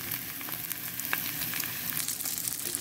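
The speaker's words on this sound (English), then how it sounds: "I'm going to throw a little bit of sausage in here to warm up with it" Eggs sizzle and fry steadily in a pan with sausage added to warm through, a continuous close crackle with scattered small pops and no talking.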